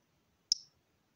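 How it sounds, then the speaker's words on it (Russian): A MAM folding knife snaps open with one sharp, crisp click, close and clean against near silence, followed by a brief ringing tail. "открывается он с таким вроде простым, но лично для меня почему-то приятным щелчком"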